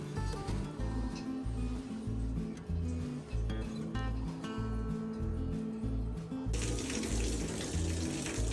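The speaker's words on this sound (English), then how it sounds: "The water is just pouring out of the side." In an old house's basement shower with no shower head, water gushes steadily from the side of the fixture, a constant hiss and splash under a rhythmic thumping background, growing brighter and louder near the end.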